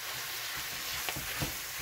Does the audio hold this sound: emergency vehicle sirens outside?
no